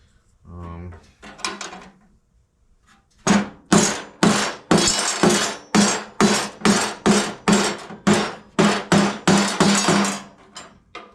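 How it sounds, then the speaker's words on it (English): Vespa Rally 200 scooter frame being whacked with a hammer during a rebuild, a couple of light taps then a long run of about fourteen sharp, loud metallic blows in steady rhythm, close up. "I had to whack the frame a little bit"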